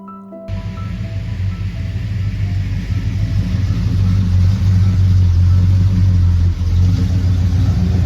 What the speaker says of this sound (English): There's a GTO that just drove by.